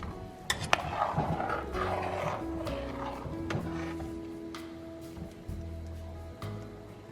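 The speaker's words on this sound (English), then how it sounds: "So all those things are into the pot and are going to be stirred together." A spoon scrapes and clinks in a pot while Italian nacho leftovers are stirred together, close, irregular metallic knocks and sliding scrapes at moderate volume with no voices.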